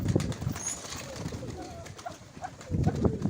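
Pigeons in Mykolaiv coo and rustle nearby, soft murmuring calls and brief flutters under a dull outdoor background, with a little talk.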